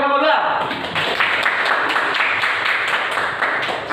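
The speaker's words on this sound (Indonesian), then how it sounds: "Tepuk tangan untuk kelompok 2." A classroom group claps for a student group. The brief patter of hands stays moderately loud throughout, mixed with students' voices talking.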